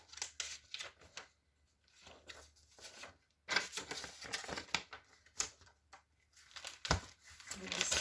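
Close, intermittent crinkling and rustling of paper behind a plate still wrapped in plastic, in short bursts, with quiet pauses between handling noises.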